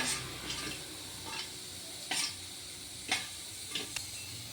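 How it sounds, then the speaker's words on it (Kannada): Mustard seeds are dry-roasted in a pan, heard as a faint, quiet rustle broken by a handful of sharp scraping ticks from stirring, with no talk. "ಸಾಸಿವೆನೂ ಅಷ್ಟೇ ಸ್ವಲ್ಪ ಹುರ್ಕೋಬೇಕಾಗುತ್ತೆ."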